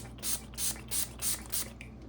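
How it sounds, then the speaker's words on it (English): Five quick spray bursts of rubbing alcohol onto a melt-and-pour soap mold in an even rhythm, hissing close and clear, followed by a faint trailing spritz. "go ahead, spray it with rubbing alcohol."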